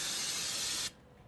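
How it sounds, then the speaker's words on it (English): Brake cleaner is sprayed onto a rag during a brake pad and rotor job. A single close, loud hiss lasts almost a second and then cuts off sharply, leaving a quiet room. "So we're going to spray some brake cleaner on a rag and just get in here and wipe all this down."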